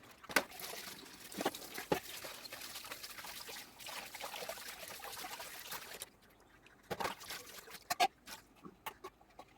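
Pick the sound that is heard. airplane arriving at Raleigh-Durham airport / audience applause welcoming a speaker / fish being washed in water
fish being washed in water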